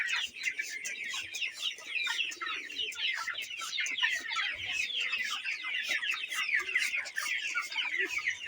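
A flock of chickens with colds clucking continuously, many overlapping calls close by, busy and steady with no pauses.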